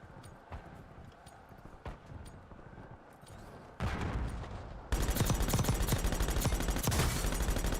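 Pistol fire in Call of Duty Warzone, with a few distant single shots at first and then denser, louder gunfire and game noise building up toward the end, no talking.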